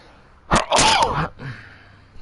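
A character sneezes in The Walking Dead video game: a sharp, close, loud burst with a breathy lead-in, followed by a quieter trailing exhale.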